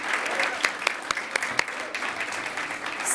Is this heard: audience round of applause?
yes